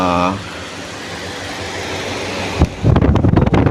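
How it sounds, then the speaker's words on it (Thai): A ventilation exhaust fan runs in a hot secondhand Japanese audio-equipment warehouse, giving a steady, fairly loud broadband whoosh that fills the space, with a brief voice at the start and louder talking bursts near the end. "พัดลมดูดนะครับ พัดลมระบายอากาศนะครับ ร้อน"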